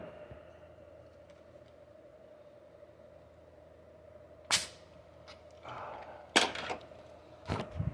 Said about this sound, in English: Sounds like I was opening a can of beer.